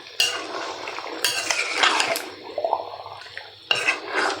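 Chicken meat being stirred in a pot during cooking, with several bursts of utensil scraping and clinking against the metal, close and moderately loud, separated by brief quieter gaps.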